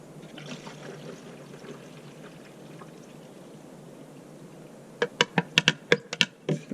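Coolant pours into a car's cooling-system reservoir as a steady low gurgling trickle, then a run of sharp plastic clicks and taps follows near the end, close by.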